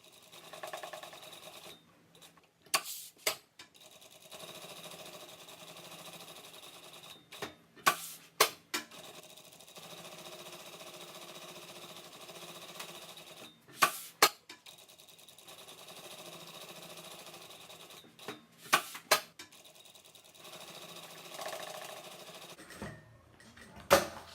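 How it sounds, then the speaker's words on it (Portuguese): A sewing machine runs a wide-stitch seam around the edge of a fabric cover for a vaccination card, in steady continuous stretches broken by short pauses and sharp handling clicks, close and moderately loud. "Você passa uma costura com ponto largo em todo"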